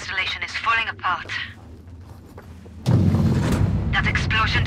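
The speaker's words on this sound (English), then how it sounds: "Oh, place is coming down. The generator's exploded." Generator exploding in the video game Sniper Ghost Warrior 3, a sudden loud broadband blast that rolls into sustained rumbling debris and collapse, following a stretch of talk; voices return over the rumble near the end.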